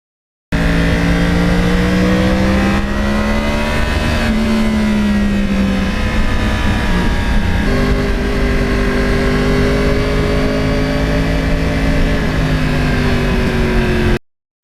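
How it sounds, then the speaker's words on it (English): A 2009 Yamaha R1 crossplane motorcycle engine drones steadily and loudly at close range, its pitch rising and falling slightly as it revs, with no voices. "That engine and the sound of it as you're riding the bike is just absolutely a selling feature to me"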